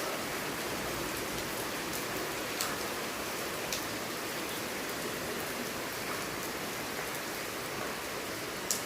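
Steady rain falls, a dense even hiss of drops on surfaces that continues without break, with a few faint louder drips standing out.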